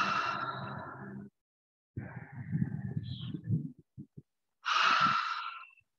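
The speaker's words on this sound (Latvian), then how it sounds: "Nebaidies elpot skaļi." Loud, deliberate breathing during an outdoor garden fitness session using a shovel and dumbbells, with two long, forceful breaths plus a shorter sputtering exhale between them, close to the listener and with no talk over it.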